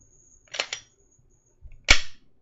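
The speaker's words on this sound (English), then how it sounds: "You should hear the firing pin go forward." Semi-automatic handgun in a dry-fire function check: a quick double clack of the slide, then after a pause a single sharp snap as the firing pin drops forward, close and crisp.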